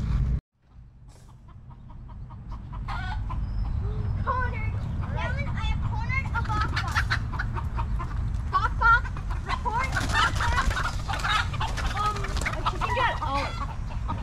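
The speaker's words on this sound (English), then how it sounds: "The chicken just ran, flew over that fence" Chickens cluck and squawk at a petting zoo, one bird fluttering up and over a fence, the calls scattered through steady outdoor noise with people talking nearby.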